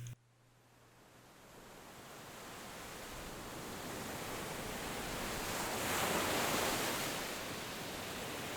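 An ocean waves stock sound effect from an editing music library: a steady, soft wash of surf swelling gently and receding, with no voices.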